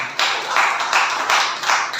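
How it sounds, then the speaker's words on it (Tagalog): A church congregation clapping together, a steady wash of many hands at moderate loudness with slight rhythmic swells, heard without speech. "Palakpak po natin"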